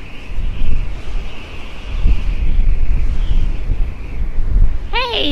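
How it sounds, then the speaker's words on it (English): Gusty wind buffets the microphone on a beach in low rumbling bursts, with a faint tone running through it and a brief high chirp near the end. "it's so windy out here"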